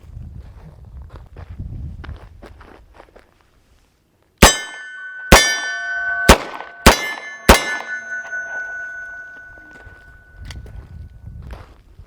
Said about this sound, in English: fire 3 cylinders at the steel targets